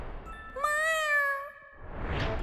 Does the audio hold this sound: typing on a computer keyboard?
no